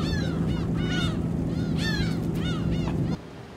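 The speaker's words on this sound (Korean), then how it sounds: "배를 따라오는 갈매기들의 비상이 멋진 풍광을 선사하네요" Seagulls following a boat on the way to Muuido island in Korea: loud, repeated sweeping calls from several gulls close overhead over a steady low boat engine rumble that drops away near the end.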